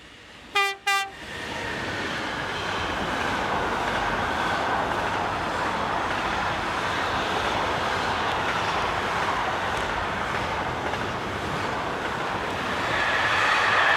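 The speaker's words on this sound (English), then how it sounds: "27032 heads north on another intermodal service." Class 27032 locomotive hauling an intermodal freight service in France sounds two short horn blasts, then passes close with a continuous loud rumble and rattle of wagons that builds again toward the end.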